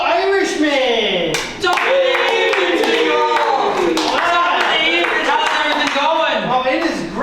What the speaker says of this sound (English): I want you to clap like you're clapping for a published poet.